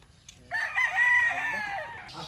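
A rooster crows once, a long, strained call that rises and holds before trailing off, fairly near against quiet background.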